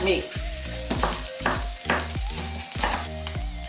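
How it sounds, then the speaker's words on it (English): Chopped pepper being stirred into coconut fried rice frying in a pot, with a bright, close sizzle and a steady rhythm of spoon scrapes and tosses about every half second. "I'm going to add in my pepper, then mix."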